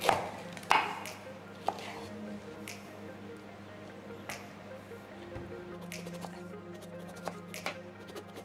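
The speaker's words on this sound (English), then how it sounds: "we're going to peel and cut up our soursop" Soursop is peeled and cut up with a knife, making a loud cut at the start and then soft, scattered close cuts and squishy taps under quiet background hum.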